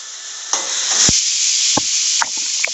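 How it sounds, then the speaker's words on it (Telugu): Chopped onions frying with salt in a pan for navaratna curry, a steady loud sizzle broken by a few sharp clinks and scrapes of a spoon stirring. "ఉల్లిపాయలు బాగా వేగాలి మూత పెట్టుకున్నాను ఒకసారి కలుపుకున్నాను"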